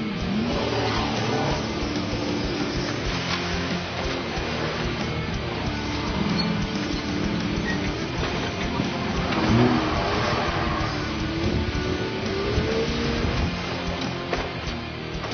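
Four-wheel drive racing trucks rev and roar continuously at a city off-road racing event, engines surging and climbing in pitch over steady crowd and motor noise.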